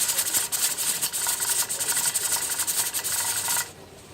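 Pressure canner weight jiggling on a stovetop while processing raw-packed green beans, giving bursts of sharp, close steam hiss with a rapid rattling pulse, then cutting off abruptly to near quiet.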